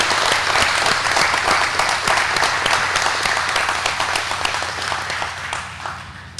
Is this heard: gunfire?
no